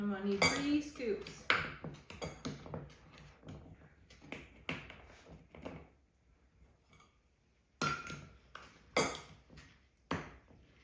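Dark brown sugar scooped with a half-cup measure, giving a series of close scraping, clinking taps of the cup against a container, in bursts with quiet gaps between.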